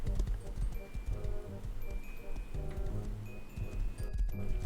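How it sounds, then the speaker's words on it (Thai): Horse riding in the survival game Rust, hooves clip-clopping in a steady rapid rhythm under continuous game background noise, moderately loud and close throughout. "แล้วก็ขี่ม้าแป๊บเดียวก็ถึงแล้ว"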